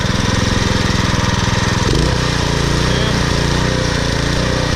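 A Troy-Bilt Super Bronco rear-tine tiller, running on old gas after a carburetor cleaning, drones steadily and loudly nearby, its engine note shifting pitch partway through as the load or throttle changes.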